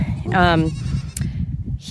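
A goat on a homestead farm lets out a single short bleat close by, followed by low background noise and a brief rustle.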